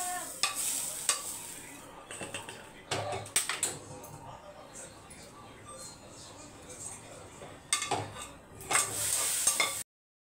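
Vermicelli cooks in boiling milk while being stirred, producing a low continuous bubbling hiss with intermittent scraping and clinking of a spoon against the pot.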